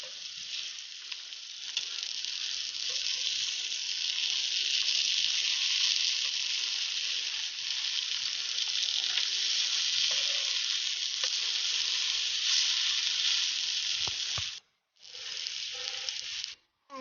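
Brinjal slices fry in hot oil with a steady, loud, close sizzle that runs nearly unbroken, dropping out briefly twice near the end as the slices are turned.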